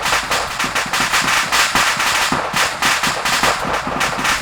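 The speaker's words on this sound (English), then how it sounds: "That ammo crate's kicking off" An ammo crate cooking off in the video game Arma 3, rapid crackling pops and small explosions in a loud, continuous firecracker-like barrage.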